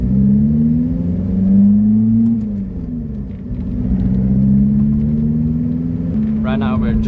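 A loud Lotus Elise engine drones from inside the car on a slow drive through a small village, a steady low hum that swells and eases gently with the throttle.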